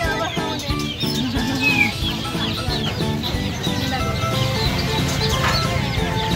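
Chickens clucking among colorful rainbow-dyed chicks at a market stall, continuous overlapping clucks and chirps at moderate volume, with people talking faintly in the background.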